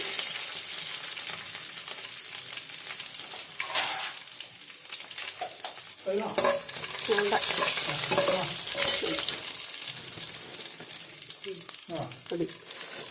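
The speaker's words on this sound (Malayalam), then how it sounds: "രണ്ട് മൂന്ന് ഉഴുന്നിടണം കടുക് വറക്കണതിൻ്റെ കൂടെ" Mustard seeds and urad dal fry in hot oil with a continuous crackling sizzle and stirring, while a voice murmurs briefly at times over the frying.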